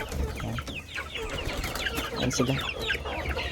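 Backyard flock of chickens cluck and chatter in overlapping bursts, fairly close, with a brief spoken remark in Filipino over them.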